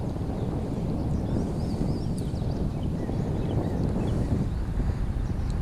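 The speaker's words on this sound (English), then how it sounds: "Got a little bit of wind picking up" Steady wind rushes across a microphone outdoors beside a trout stream, a constant broadband roar with no pauses and no voices.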